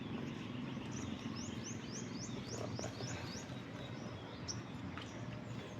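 A bird sings a quick series of repeated high chirps in a rhythmic run, then a lone call later, fairly faint over a quiet outdoor garden background.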